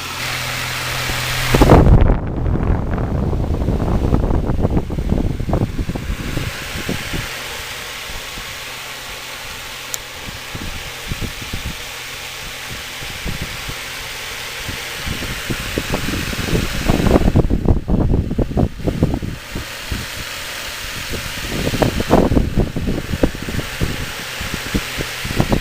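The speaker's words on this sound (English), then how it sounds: "Here's high. It rips twice as fast with this new motor." A 1997 Fisher Price 7-inch table fan runs on high speed, producing a loud, steady rushing whoosh with fluttering gusts and rumbling buffeting throughout, close to the microphone.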